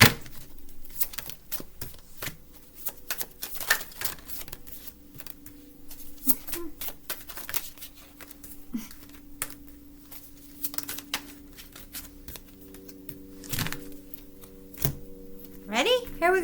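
Tarot cards are shuffled and drawn in bursts of crisp riffling and flicking with soft slaps as cards are laid down, continuing throughout while someone talks over them.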